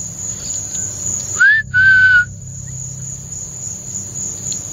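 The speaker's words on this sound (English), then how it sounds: "They just whistled." Two short rising whistles from people in a dark wooded area at night sound in quick succession, moderately distant, over a steady chorus of crickets and insects.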